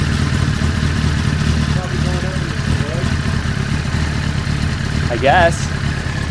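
A motorcycle engine of uncertain make runs at a steady idle just after being cranked up, a continuous low rumble with talk over it and a brief louder burst near the end.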